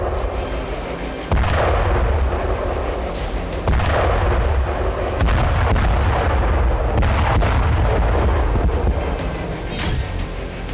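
Repeated heavy blasts and rumbling booms from a gas station explosion during a wartime attack in Russia, loud and sustained, with several sharp bursts cutting through a dense low roar.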